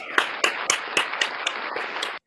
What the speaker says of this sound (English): Round of applause for her New York trip coming up.